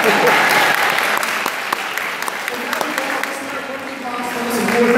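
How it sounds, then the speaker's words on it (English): An awards-ceremony crowd applauds steadily throughout, a full room of clapping with a few voices mixed in, swelling slightly at the close. "Give yourself a round of applause."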